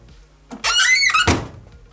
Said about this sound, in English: the door squeaks as well